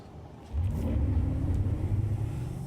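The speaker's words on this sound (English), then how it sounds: "I do like the sound of that engine," A spaceship engine in Star Citizen starting up: a low rumble that swells sharply after a short pause, then holds as a steady, deep droning roar.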